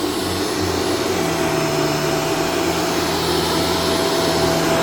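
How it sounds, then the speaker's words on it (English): A Shark vacuum cleaner runs steadily and loudly while cleaning a carpeted staircase, a constant motor whine and airflow roar with no talk over it. "I am vacuuming long and hard, making full contact with the power pins to the staircase."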